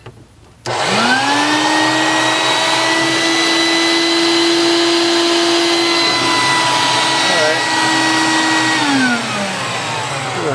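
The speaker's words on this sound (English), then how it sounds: "I'm going to try to vacuum as much of it out as I can with the old vacuum cleaner" A shop vac switches on with a sharp jump and runs loudly and steadily, its whine slightly shifting as it sucks metal filings out of a tube near a 1966 Ford Thunderbird 390 FE bypass hose, then winds down near the end.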